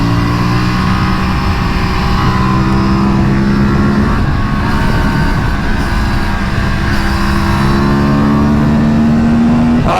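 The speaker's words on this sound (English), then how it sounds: "it has no power at the throttle opening. It struggles." An Aprilia RS 457 motorcycle engine strains as the throttle opens on a track ride, a loud, steady, close droning roar that shifts in pitch, with no talk.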